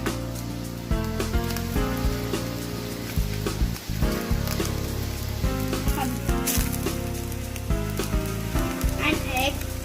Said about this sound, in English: When the egg fries, you can turn it in another side.